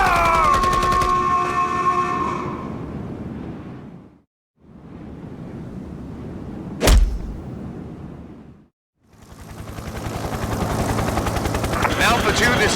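Loud helicopter rotor thumping from a Conflict series video game fills the scene, broken by short gaps, with a sharp single blast midway and dense roaring noise returning at the end.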